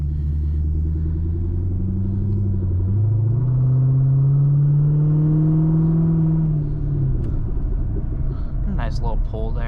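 A 2008 Chevrolet Corvette Z51's engine pulls hard under acceleration, its tone climbing steadily over several seconds before easing off, loud and close, with brief talk near the end.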